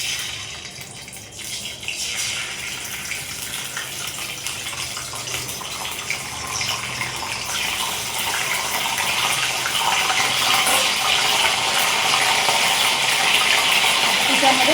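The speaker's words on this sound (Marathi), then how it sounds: "आता अद्रक लसूण पेस्ट टाकते." Ginger garlic paste hits hot oil in a pan, giving a loud, steady sizzle and hiss that builds slightly and continues without a break.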